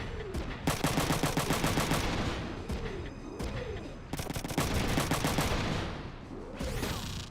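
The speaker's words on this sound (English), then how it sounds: "And I am going to shoot you back." Front Mission 3 gunfire in dense, rapid bursts like machine-gun fire, loud and sustained with short gaps between volleys and resonant tonal sweeps woven through.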